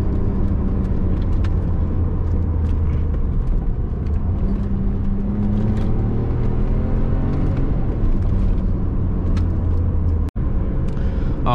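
A BMW Z3 2.2 six-cylinder roadster engine drones steadily while driving, a constant low rumble with smooth pitch shifts as revs rise and fall, heard from inside the car with no talking.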